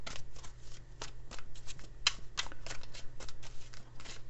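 A tarot card deck shuffled by hand, a steady run of close, crisp riffling flutters and soft card slaps repeating for several seconds, with no one talking.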